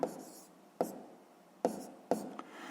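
A pen writing numbers by hand on paper, four short scratchy strokes at uneven intervals, close and quiet with faint background hiss and no talking.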